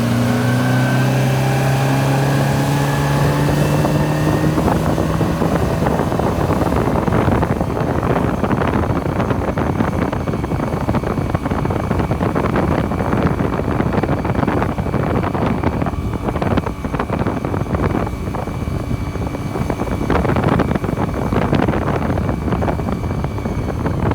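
A motorboat running over choppy water after a bent propeller shaft was repaired: a loud, steady engine drone with rising pitch as it speeds up, mixed with heavy wind buffeting and splashing hull noise throughout.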